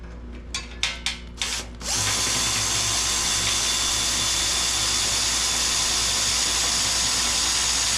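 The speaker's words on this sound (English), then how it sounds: "So now we're going to get our hinges and our self-tapper," A cordless drill drives self-tapping screws through hinges on a fire pit built from a sandblaster; a few short bursts of the tool come first, then a steady, loud, continuous whine and grind.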